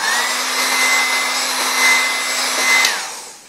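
A heat gun blows loudly and close on low heat over an HP dv6000 laptop motherboard after reflow, a steady whooshing whine that winds down at the end.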